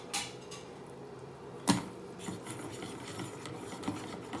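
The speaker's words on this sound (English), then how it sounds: "Let's have a stir." A spoon stirs pasta sauce in a pan with a soft scraping, rubbing sound and one sharper knock against the pan. It is quiet and close, with no talking.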